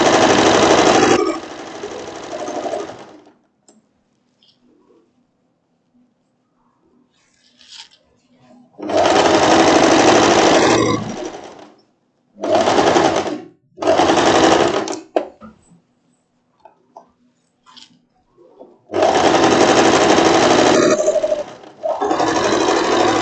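A sewing machine stitches a floral wrap dress in several bursts, a loud close whirring hum lasting a few seconds at a time, separated by quiet pauses.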